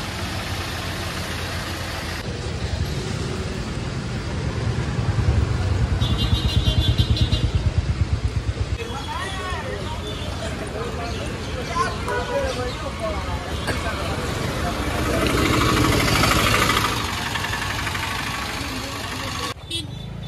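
Motorbikes and cars moving through the Bhutan entry gate at the Jaigaon border, a continuous mix of idling and passing engines with a louder close pass midway, while someone talks over the traffic.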